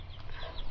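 A chicken kept at a household clucks once in a short, faint burst, heard alone and close by.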